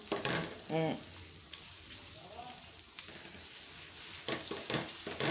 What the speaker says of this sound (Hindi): प्याज को अच्छी तरह से गोल्डन ब्राउन होने दें